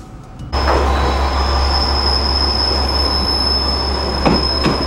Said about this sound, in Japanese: このようなオレンジ色のディーゼルカーに揺られることがほとんどでしょう